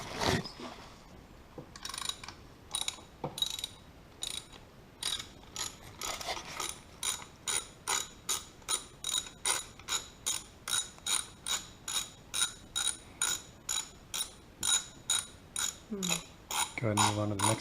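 Socket head cap Allen screws being backed out during teardown of a 1972 Honda Z50 motorcycle, a long train of steady ratcheting clicks in an even rhythm, close and clear, ending with a brief low whirr.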